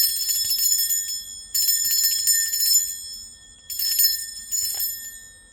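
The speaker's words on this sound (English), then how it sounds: "I'm going to ring a bell just to cleanse the space for all of us and to just remove the energy from the last reading" A small bell rings out clearly in three bright, shimmering strokes with a sustained metallic ring between them, close and alone in a quiet room.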